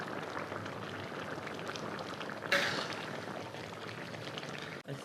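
Hot and sour soup thickened with potato starch bubbles at a rolling boil, a steady dense wash of bubbling with one brief louder splash midway, no voices.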